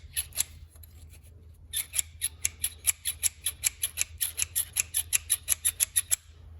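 Worn old AC belt tensioner under a Chevy Silverado, giving a rapid run of sharp squeaky ticks in a steady rhythm over a low engine hum, close up and loud, after a short pause near the start.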